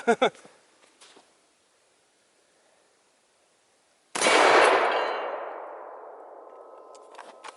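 A single loud rifle shot strikes a CrossFit steel weight plate outdoors, a sharp crack followed by a long ringing decay, after a brief clank and several seconds of quiet.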